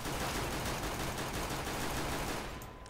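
Rapid gunfire in the shooter CS:GO, a dense continuous burst of shots at steady loud level for nearly three seconds, then cutting off, with no voices.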